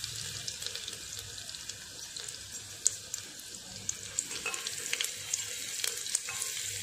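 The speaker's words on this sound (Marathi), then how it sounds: "तेल तापलेलं आहे आपलं, जिरं टाकायचं आहे।" Cumin seeds sizzle in hot oil, a soft continuous frying hiss with light scattered crackles and pops, close but fairly quiet, with no talk.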